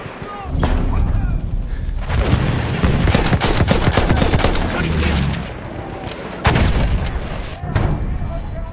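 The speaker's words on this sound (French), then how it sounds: "Attention, grenade." Grenade blasts and heavy gunfire in a Battlefield 1 Conquest match on the Rupture map on Xbox One: loud booming explosions and rapid machine-gun bursts fill the scene continuously, with brief dips between waves of fire.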